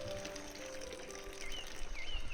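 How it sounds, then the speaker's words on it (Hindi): Water pours and trickles into Narad Kund, a mountain pool along the Rudranath trek, a steady splashing flow heard up close alongside faint birdsong. "और वहाँ से पानी यहाँ पे आ रहा।"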